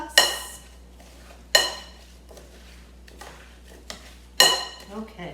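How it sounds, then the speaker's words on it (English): Apple pieces in dressing are tossed with tongs in a bowl, giving three or four sharp metallic clinks and scrapes spaced apart over a quiet background. "Okay, my tongs and give them a little bit of a toss."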